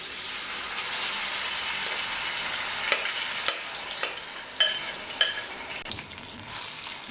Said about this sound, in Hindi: अब इसे 5 से 10 मिनट के लिए अच्छे तरीके से भून लेंगे